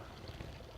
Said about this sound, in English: I love the sound of this water fountain.